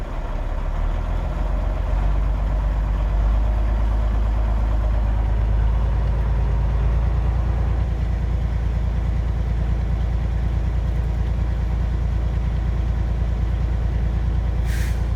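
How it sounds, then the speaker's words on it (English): A truck's diesel engine is held at a raised, steady idle to build air brake pressure in both air tanks toward 125 psi; a loud, continuous low rumble runs throughout with no talking. "I'm going to push on the gas a little bit so the air builds up faster."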